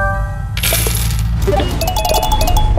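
Bright chiming Crossy Road coin pickup tones ring out repeatedly over a steady low rumble and busy game music, several quick coin-like dings in succession.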